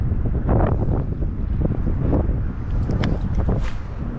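Wind buffets the microphone on a boat while crappie fishing, a continuous rough rumbling gust that runs through the whole stretch with faint splashes and bumps.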